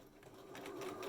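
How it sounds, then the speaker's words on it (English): Sewing machine running a straight stitch down the edges of a fabric gift bag, a steady close whirring hum that grows slightly louder, with no talking. "Just do a stitch all the way down both edges."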